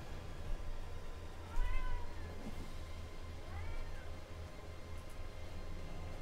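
Pet cat meowing close by, two drawn-out meows a couple of seconds apart over a low steady hum and background noise.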